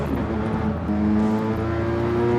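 Tuned 2001 Honda City VTEC sedan on a race track, its engine note loud and close, a steady singing drone with rising tonal harmonics as it revs on, no voices.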